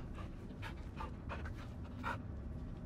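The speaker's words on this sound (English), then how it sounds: "Yeah, good dog. Good boy." A dog pants in a Blair Witch video game, with several quick breathy bursts of panting over a steady low background hum, close and moderately quiet.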